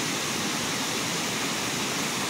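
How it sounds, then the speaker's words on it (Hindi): Collected water spills and flows down at Mainpat Fish Point, making a steady, close rushing roar with no pauses or voices. "यहाँ पे पानी को इकट्ठा किया गया है, और ये बह रहा है इस तरह से"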